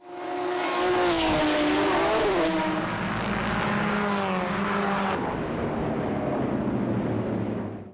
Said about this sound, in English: The last thing is wheel-to-wheel racing.